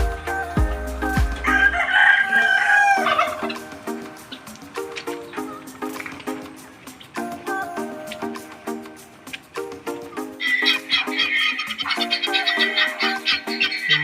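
Chickens crow and cluck nearby, including brooding hens, with several overlapping calls and a rooster crowing loudly through most of the stretch.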